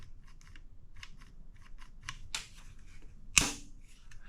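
A sharp mechanical click from a Beretta PX4 Storm 9mm pistol's double-action trigger being dry-fired, then a louder snapping release about a second later, with softer small handling clicks around them in a quiet room.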